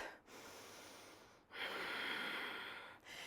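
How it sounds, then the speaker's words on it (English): Big, powerful breaths held in a strong yoga warrior stance, long airy rushes of breath in and out, three in a row, close but fairly soft. "5 big, powerful breaths."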